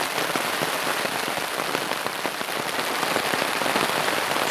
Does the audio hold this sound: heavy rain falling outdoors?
yes